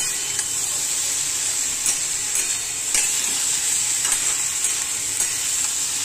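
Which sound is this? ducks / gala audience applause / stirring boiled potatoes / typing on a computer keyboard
stirring boiled potatoes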